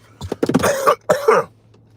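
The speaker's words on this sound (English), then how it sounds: "if this cough don't stop, this live gonna stop." Two harsh, throaty coughs close to the mic, the first a broken hacking burst, the second shorter, over a faint low hum.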